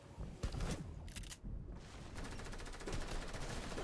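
Gunfire in a shooter video game comes as dense bursts of rapid automatic shots with a few heavier single cracks. The firing is fairly quiet but continuous and leaves almost no gaps.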